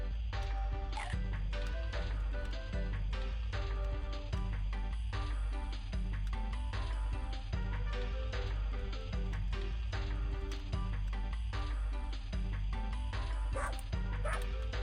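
Cartoonish dog barks and yips from the video game 102 Dalmatians: Puppies to the Rescue repeat in quick bursts over a constant loud game soundtrack.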